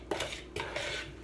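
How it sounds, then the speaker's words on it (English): A utensil clinks against a bowl while mixing pesto turkey burger ingredients. A few quick scraping taps come close together, soft and close-up, with no talking. "I'm just going to mix them up really good."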